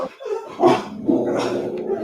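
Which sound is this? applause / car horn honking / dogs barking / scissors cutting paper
dogs barking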